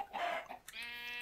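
Chickens in the video game Forever Stranded give a brief, faint cluck and squawk, followed by a short harmonic tone.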